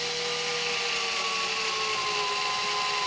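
A Forstner bit on a power drill bores a vent hole into a plastic gas can, producing a steady, close whirring whine with a grinding edge throughout.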